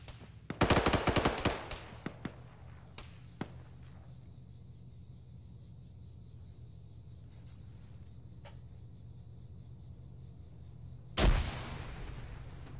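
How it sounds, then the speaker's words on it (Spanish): Gunfire in ArmA 3 during a co-op firefight: a dense burst of automatic shots up front, a few scattered single shots, then a low ambient rumble before another sharp shot near the end. "me dispara de otro lado alguien"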